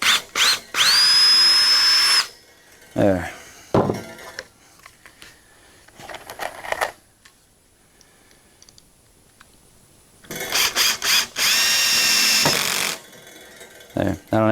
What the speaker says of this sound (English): So I'm going to pre-drill it because I don't want it splitting on me.